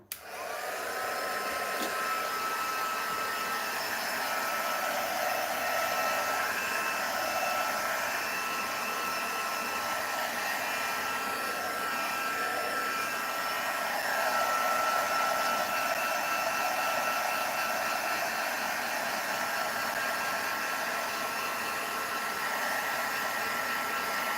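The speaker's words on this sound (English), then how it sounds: "embossing heat tool. So this is one from Spotlight, Crafter's Choice, just to help dry off the edges a bit" A Crafter's Choice embossing heat tool blows hot air over craft edges with a steady, high whirring hiss like a hair dryer, running continuously and fairly close for the whole stretch with no talk.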